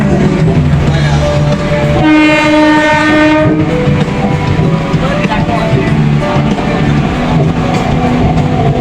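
A moving passenger train heard from beside the carriage on a trip toward Digha, with steady loud rolling rumble, rail clatter and a long horn blast partway through, continuing throughout.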